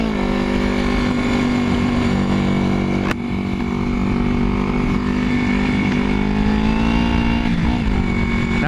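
A 1981 Yamaha XS400 Heritage motorcycle out on a ride gives a loud, continuous engine drone. The pitch shifts slightly as it rides on, with a brief click partway through.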